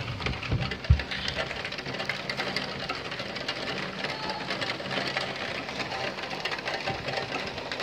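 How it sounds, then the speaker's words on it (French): Dense, steady hiss of heavy rain pouring continuously during a thunderstorm in Le Mans, France, with a brief low thud near the start. "Ah, il pleut bien."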